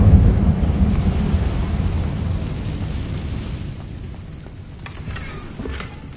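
Incendio fire spell cast in the video game Hogwarts Legacy, a loud deep rumbling whoosh of flame that bursts at the start and slowly fades over several seconds, with faint crackles near the end.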